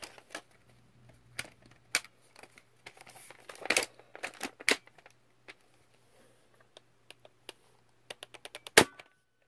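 A modified BoomCo K26 Breakflip toy blaster fires homemade sniper clips into a chronograph. Sharp snapping shots and clicks come one after another, with quieter clicking between them, and a final loud snap closes the run.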